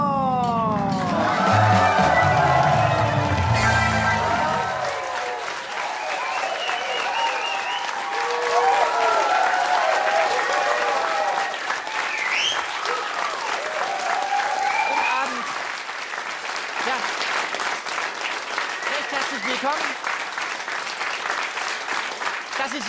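A studio audience greets the comedian Olaf Schubert's entrance with loud, sustained applause and cheering. A voice rings out near the start, then the dense clapping continues to the end.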